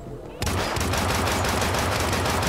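Sustained rapid blind gunfire in the Hitman video game erupts abruptly after a brief quiet moment, loud and continuous with dense repeated shots and no talking.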